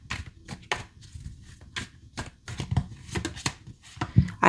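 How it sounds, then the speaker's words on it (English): Tarot cards are shuffled near at hand in a quiet room, giving quick irregular papery riffles and soft slaps that come in bursts, fairly faint throughout. "I usually shuffle a couple times before I come on here"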